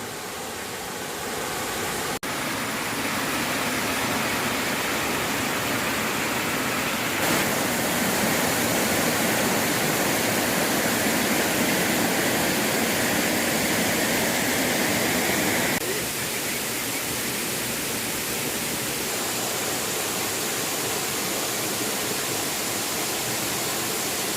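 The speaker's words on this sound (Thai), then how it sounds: "นี่ครับชั้นที่สามนะครับ ผาน้ำตก" The third tier of Erawan Waterfall in Kanchanaburi, Thailand pours with a steady, loud, close rushing roar of falling water that continues unbroken throughout.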